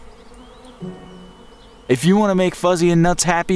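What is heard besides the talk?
bees buzzing in a cartoon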